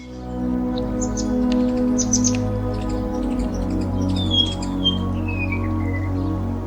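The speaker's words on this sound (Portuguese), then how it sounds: "O mohua, ou passarinho amarelo, é uma das aves mais vibrantes e encantadoras da Nova Zelândia." Mohua (yellowhead) singing in a New Zealand forest, a series of bright chirps and descending whistled notes over a steady low background hum.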